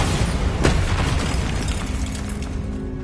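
A Bombarda spell explosion in the video game Hogwarts Legacy: a loud, dense blast with a sharp crack near the start, then a rumbling roar that fills the whole clip.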